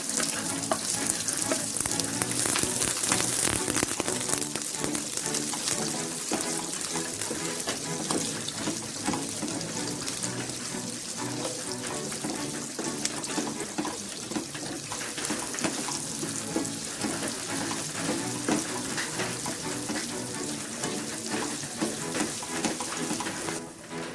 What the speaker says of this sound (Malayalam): ഇപ്പോൾ ഓയിൽ ചൂടായി വന്നുകൊണ്ട് നമുക്ക് സവാള ഇട്ട് കൊടുക്കാം.